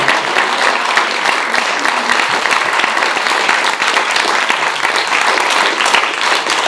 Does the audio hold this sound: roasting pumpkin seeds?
no